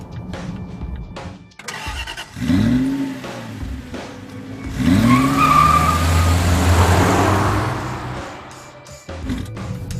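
A 2016 Volvo XC90 T6 SUV engine revs and pulls away with rising, swelling roars, one surge after another, loud and close, with no voices.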